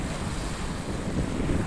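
Sea waves and gusting wind at a seaside temple, a continuous broadband roar with surf washing and wind buffeting the microphone, loud and close, with no speech.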